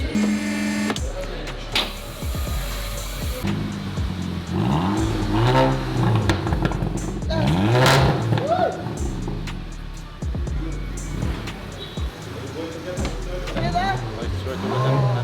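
A VW Scirocco engine revs repeatedly with a raspy straight-pipe exhaust roar, the center silencer replaced, rising and falling over about fifteen seconds, with people talking underneath.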